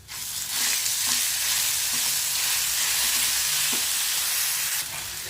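Green chillies and curry leaves sizzle as they sauté in hot oil, a steady, bright frying hiss with occasional soft stirring knocks, close and continuous.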